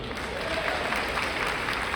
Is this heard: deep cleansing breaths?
no